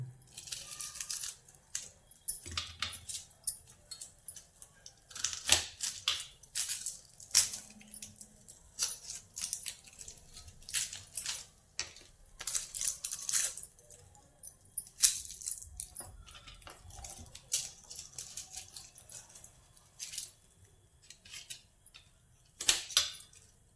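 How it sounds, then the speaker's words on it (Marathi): Two onions are finely chopped with a knife in a home kitchen, producing irregular clusters of quick, sharp taps and cutting clicks on a board, with short pauses between bursts. "आता हे कांदे आपण चिरून घेऊया"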